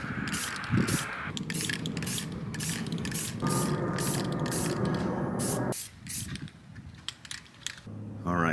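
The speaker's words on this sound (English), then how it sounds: "All right, let's start painting." Aerosol spray paint hissing onto a Jeep hard top in repeated bursts of varying length, close and loud, with short pauses and can rattles between passes.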